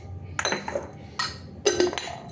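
Metal kitchen utensils and dishes clink and clatter as they are picked up and set down before washing, three or four short, close, bright clanks separated by brief pauses.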